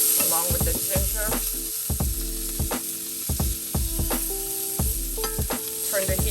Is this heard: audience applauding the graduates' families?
no